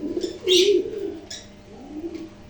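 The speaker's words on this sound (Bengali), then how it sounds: "আমার নিজস্ব খামারের বেশ কিছু কবুতর আছে," Pigeons coo on a farm in Rajshahi, Bangladesh, a couple of soft, close throaty coos with a brief chirpy flutter, no voices.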